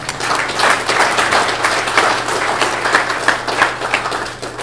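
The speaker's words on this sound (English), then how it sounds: "let's give Sharmila a big round of applause" An audience gives a loud, continuous round of applause for Sharmila at a business event, with dense clapping close by throughout.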